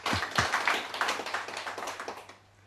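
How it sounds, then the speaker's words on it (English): A short burst of audience applause, many hands clapping densely at first, then thinning and fading out after a couple of seconds. "I'd like to give her a round of applause,"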